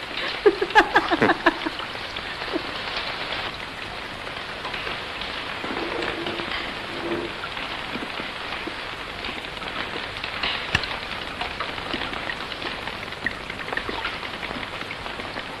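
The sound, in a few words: rain drumming on roof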